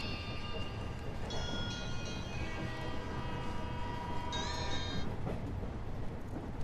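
Steady rumble of a passenger train running along the tracks, broad and continuous, with faint horn-like tones drifting over it and nobody talking.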